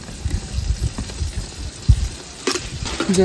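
Chillies sizzling and frying in a hot pan of oil at home, a steady crackle with a few stirring clatters and a sharper burst of spattering near the end; nobody speaks.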